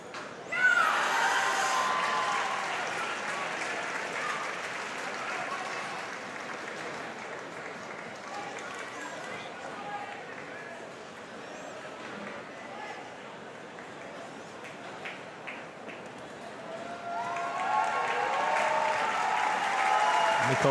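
A large indoor crowd applauds at a para table tennis wheelchair doubles match, with a burst of clapping at the start that thins to a steady patter, then swells again near the end.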